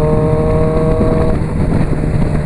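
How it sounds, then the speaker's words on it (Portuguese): Engine note of a Honda CB 1000R motorcycle out on a highway, revving steadily at close range with a throttle-blipped downshift; a held tone drops partway through and the loud, rough drone carries on alone. "eu gosto do barulho da reduzida acelerada"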